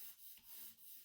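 Crayon rubbing across paper in soft, continuous waxy strokes, with a few brief pauses between passes, close and quiet with no talking.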